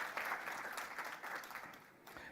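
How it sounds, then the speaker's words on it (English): Audience at a Namibian women in finance and insurance summit applauding, a steady, dense wash of clapping hands that carries on throughout without voices breaking through. "Shall we please give her a round of applause?"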